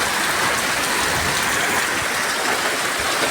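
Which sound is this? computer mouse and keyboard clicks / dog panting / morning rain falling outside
morning rain falling outside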